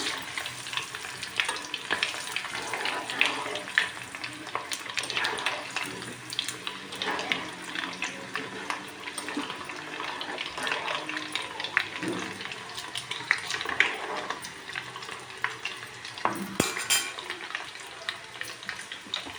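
Tempering spices, mustard seeds, urad dal, chillies and garlic, keep sizzling in oil as they are stirred, a soft continuous crackle with scattered pops and occasional scrapes and clinks over nearly twenty seconds, no talking.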